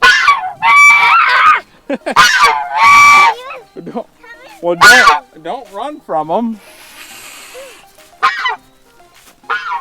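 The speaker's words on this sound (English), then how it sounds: "He's a guard goose." A guard goose honks loudly and repeatedly in harsh, close bursts, mixed with a person speaking briefly.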